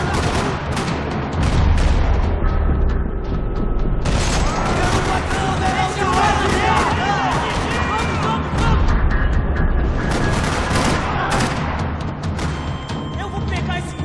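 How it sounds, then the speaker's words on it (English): Loud, dense gunfire rattles through a parking lot in the video game Max Payne 3, with rapid overlapping shots and bursts sounding almost nonstop for the whole stretch. "Another parking lot rattling with gunfire."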